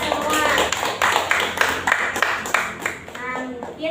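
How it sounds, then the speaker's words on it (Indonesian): A primary school class claps hands together in a classroom, a fairly close, uneven burst of individual claps with children's voices mixed in and a teacher speaking near the end. "Tepuk tangan buat kita semua."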